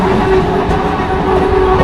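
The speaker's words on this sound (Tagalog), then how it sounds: "Deutsche Bahn RE1" A Deutsche Bahn RE1 regional train passes close by near Cologne, giving a loud, continuous rumble and rattle of wheels and carriages throughout.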